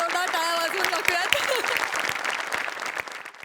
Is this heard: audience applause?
yes